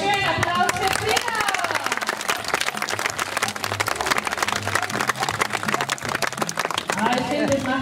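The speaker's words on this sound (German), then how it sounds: "Applaus für Frieda" Audience applause breaks out at a chicken show after a trained hen's performance, dense steady clapping lasting throughout with scattered voices and a presenter talking over it.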